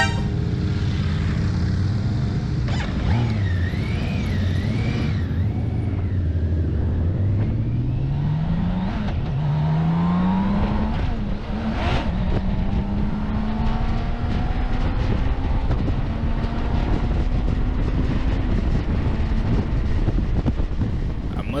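A 2024 BMW K1600B motorcycle engine pulls through rising and falling revs on a test ride at the Barber Motorsports Vintage Festival, heard under heavy rushing wind noise with a few other vehicles passing.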